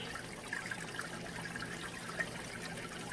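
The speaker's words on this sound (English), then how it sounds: "when it hits this sluice, the water again, it just runs right on down through there." Creek water running steadily down through a gold sluice, a continuous trickling wash with a faint splash or two, close and even throughout, no voices.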